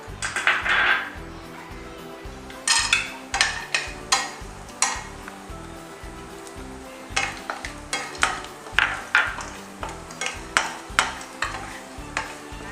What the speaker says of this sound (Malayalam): ഇനി അടുത്ത് നമുക്ക് കാഷ്നട്ടും ബദാമും പിസ്തയും വറുത്തെടുക്കാം